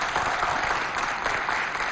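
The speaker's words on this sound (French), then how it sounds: "Applaudissez!" An audience in a TV studio applauds, a steady dense burst of clapping from many hands that holds evenly throughout with no voices over it.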